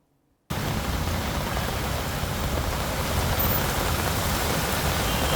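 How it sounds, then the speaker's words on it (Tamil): Heavy rain pours down in Tamil Nadu, starting after a brief silence and continuing as a dense, steady, loud hiss with no voices. "ஒரு மணி நேரத்திற்கும் மேலாக பலத்த மழை பெய்தது"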